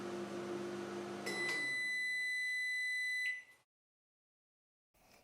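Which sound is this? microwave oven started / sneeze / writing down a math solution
microwave oven started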